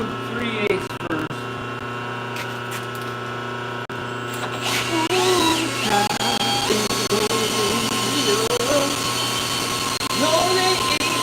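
A Bridgeport J-head milling machine cutting down a metal spacer, a steady droning motor hum with a tonal whine and intermittent cutting scrapes, running throughout while faint voices occasionally come through.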